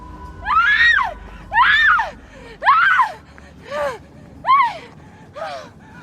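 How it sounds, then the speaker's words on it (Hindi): A woman screams repeatedly in a horror audio drama set on a train's AC coach, with six loud, wailing cries spaced about a second apart, rising and falling in pitch, close and dominant. "तभी उन्हें एक औरत के चिल्लाने की आवाज आती है।"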